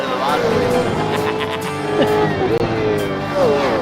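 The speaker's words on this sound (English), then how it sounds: "Can't wait to hear those engines roar." V8 race car engines in a racing simulator at Jerez whine and shift pitch continuously, loud and close, with voices talking over the mechanical roar.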